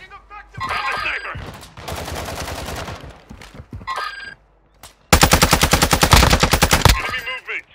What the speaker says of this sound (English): You are taking effective fire.